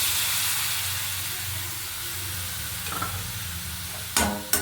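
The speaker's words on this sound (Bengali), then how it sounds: "ভালো করে কষিয়ে নিতে হবে সমস্ত মশলাকে ভালো করে নাড়িয়ে চাড়িয়ে কষে নিচ্ছি" A spice paste of two kinds of chili powder, red cumin and coriander powder mixed with water fries and is stirred in a pan, a steady hiss and sizzle with a few scraping stirs and a sharp clatter near the end.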